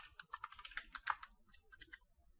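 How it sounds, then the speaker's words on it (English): Someone types on a computer keyboard while setting up a Windows 7 user account. The keys clatter quickly and unevenly at close range, fairly quiet, and thin out toward the end with no voices. "I'll just type test user"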